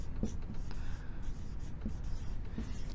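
A pen writes numbers on paper with a soft continuous scratching and a few light taps, close and faint against a steady background hiss.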